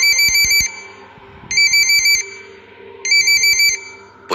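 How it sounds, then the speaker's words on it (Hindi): A phone ringtone plays three times in a repeating pattern, each ring a short burst of bright electronic beeps with quiet gaps between, loud and close in an otherwise still room. "तभी उस शांति को भंग करते हुए पुष्कर का फोन बजा।"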